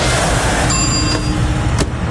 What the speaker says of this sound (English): ready for the starting bell.